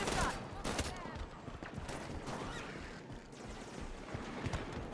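Rapid gunfire from a weapon in Halo 5: Guardians rattles in dense bursts amid chaotic battle noise, loud and close, with a voice talking over the action.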